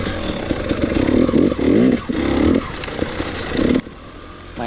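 A 2018 KTM 250 XC-W TPI motorcycle is ridden with a crisp engine that rises and falls in quick throttle bursts, heard close and loud with a brief dip near the end.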